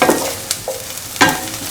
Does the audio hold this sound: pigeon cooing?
no